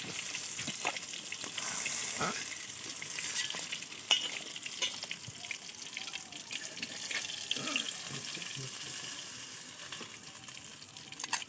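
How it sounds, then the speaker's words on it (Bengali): Pangas fish frying in oil in a pan on a stove, a faint, steady sizzle with occasional soft clinks and stirring sounds, no talking. "দেখো মাছটা কত সুন্দরভাবে ভেজে নিচ্ছি।"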